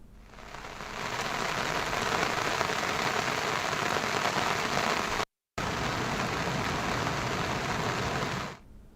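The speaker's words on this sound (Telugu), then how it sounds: "విశాఖలోని అరకులోయలో ఎడతెరిపి లేకుండా వర్షాలు కురుస్తున్నాయి" Heavy, unbroken rain pouring down in the Araku Valley, a dense steady hiss of drops on surfaces with a brief dropout midway, no voices.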